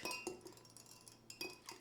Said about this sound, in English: Now give that a good whisk.